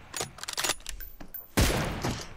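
Gunshots in a battle royale mobile game, a quick run of sharp cracks followed by a single louder, booming shot that rings out before fading.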